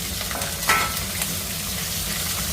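Cumin, peanuts, split lentils, and green and dried red chilies frying in hot oil give a steady close sizzle throughout, with a brief stir or scrape near the start and no talking.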